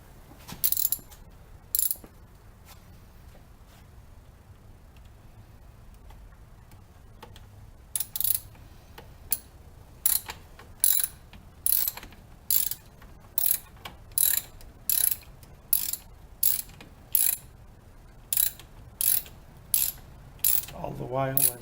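Ratchet wrench tightening a car battery terminal clamp onto a tapered post, a long run of sharp, evenly paced clicks after a couple of early bursts, close and clear against a quiet background.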